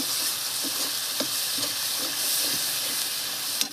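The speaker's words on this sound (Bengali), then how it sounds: "অল্প একটু জল দিয়ে দিচ্ছি মশলাটা যেন না পড়ে" Prawn curry masala with potatoes and peas hisses and sizzles loudly in the pan after a splash of water, with a constant steamy fry and soft stirring taps underneath.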